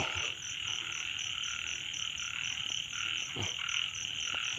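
Many narrow-mouthed toads and frogs call together through falling rain at night, forming a steady, dense chorus of buzzing croaks with a few sharper calls standing out nearby.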